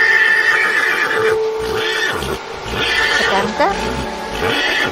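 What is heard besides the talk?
horse neighing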